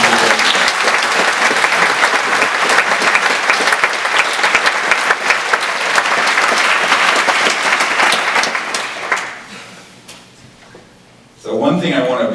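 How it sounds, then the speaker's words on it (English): A big round of applause from the audience at a live talk, with steady, dense clapping for about nine seconds that then fades out, followed by a short burst of voice at the end. "So a big round of applause for all you guys"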